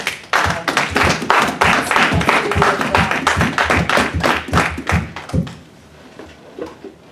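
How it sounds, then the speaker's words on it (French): A crowd claps steadily for several seconds, dense and lively, then the applause thins out and fades toward the end. "Donnons une main d'acclamation."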